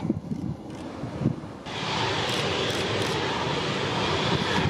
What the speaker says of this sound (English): All the way from Brussels on board this E-Jet